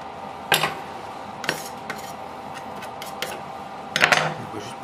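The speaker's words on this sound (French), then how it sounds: "on va enlever le cercle" A metal tart ring is lifted off a half-baked quiche Lorraine, giving a few short metallic clinks and scrapes spaced over several seconds, close and fairly quiet with no talk.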